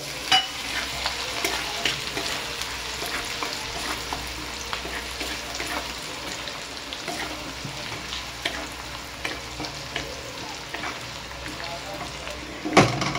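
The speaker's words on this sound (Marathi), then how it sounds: "आता अमूल बटर कांदा लसूण शिजवून घेऊ" Chopped onion and garlic in Amul butter sizzle and fry in a pan, a steady crackling hiss with occasional scraping stirs and a louder clatter near the end, no one talking.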